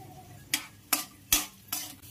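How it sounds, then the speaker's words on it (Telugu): Raisins frying in hot ghee, a quiet sizzle broken by four evenly spaced sharp scrapes or taps of a spoon against the pan, close up and with no talking. "కిస్మిస్ కూడా వేయించుకున్నాము"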